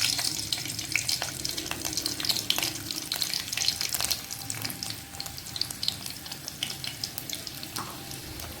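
Garlic sizzles and crackles in hot oil, a close, busy spatter with sharp pops and occasional stirring scrapes, steady and moderately loud with no talking.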